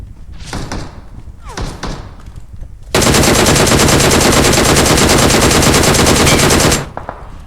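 Video game gunfire bursts out as a long, sustained automatic volley lasting about four seconds, loud and close, preceded by a couple of sharp single shots and followed by brief trailing hits.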